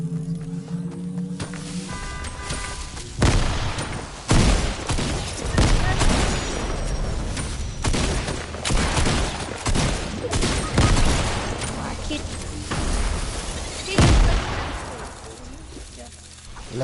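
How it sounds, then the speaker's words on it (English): Rapid bursts of flint gun gunfire in a tropical island shooter video game, loud, dense volleys repeated across the whole stretch, with sharp louder cracks standing out and voices talking over the shooting. "Use the flint gun"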